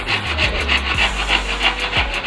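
Hand saw cutting through a piece of reused furniture wood to a 50 cm length, with a quick, even rhythm of about a dozen rasping strokes heard close and loud.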